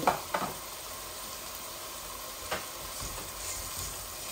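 Chicken and gizzards poured into a hot pan, opening with a couple of sharp knocks and spatters, then settling into a steady close sizzle with occasional stirring scrapes, no talk.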